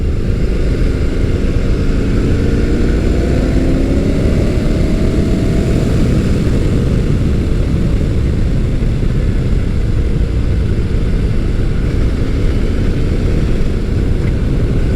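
Motus MSTR 1650cc V-4 motorcycle ridden on a back road: a loud, steady engine drone buried in heavy wind roar, with a brief rising tone early on and no speech.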